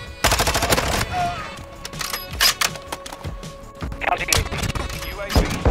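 Rapid gunfire in a competitive shooter video game, with dense bursts of automatic shots and single cracks coming in uneven clusters, loud and close, while players talk excitedly over the shooting.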